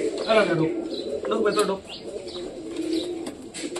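Fantail pigeons coo in soft, repeated throaty calls with a few faint chirps. Voices talk nearby and partly overlap the birds.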